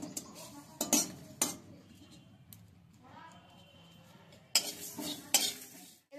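Spices and dried red chillies are stirred and pressed in a pan on a gas stove, the utensil clinking and scraping against the metal in quiet, intermittent bursts with soft sizzling between.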